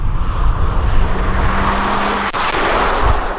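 2020 Kia Optima with a 1.6-liter turbo engine cruising on a busy road at night, a steady close road and engine drone with a brief sharp knock partway through and no talk.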